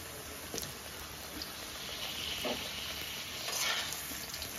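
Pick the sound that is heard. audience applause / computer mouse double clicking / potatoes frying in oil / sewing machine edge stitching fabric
potatoes frying in oil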